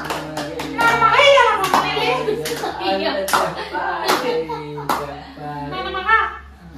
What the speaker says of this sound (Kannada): ಅದೇನೋ ನಮ್ಮ ನಾಲ್ಕು ಚಪ್ಪಾಳೆ ಚಪ್ಪಾಳೆ